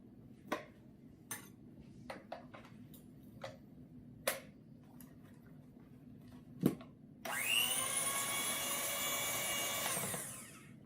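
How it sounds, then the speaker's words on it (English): An electric hand mixer with its beater runs through flour, a steady motor whir starting after several clicks and knocks from fitting the attachment, then cutting off. "Now I'm going to use the beater to mix up some flour."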